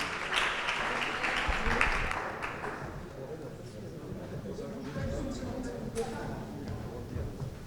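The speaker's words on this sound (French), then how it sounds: "Mesdames et messieurs, je vous demande d'applaudir encore une fois tous nos intervenants" An audience at a French cinema conference applauding the speakers, a steady wash of moderate clapping from a crowd, louder at first and then softer, with some voices heard.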